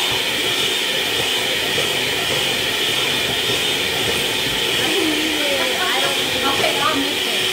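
An electric mixer running on high power through a gluten-free mochi chocolate cake batter, a continuous loud whirring hiss that stays steady throughout, with voices talking faintly underneath.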